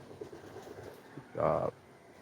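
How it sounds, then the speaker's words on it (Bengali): Racing pigeons in a home loft, a soft low coo rising clearly for a moment near the end after faint murmuring calls, heard close over a quiet background. "আজকে দেখাবো আমার আমাদের লফটের রেসার কবুতর"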